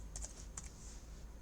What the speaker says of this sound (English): the arrow keys are what I've moved on the keyboard as well